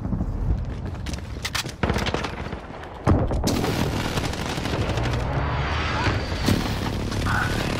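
Precision airstrike in the Modern Warfare video game: heavy blasts and gunfire rumble continuously, with sharp impacts near the start and a big boom around three seconds, followed by sustained loud battle noise.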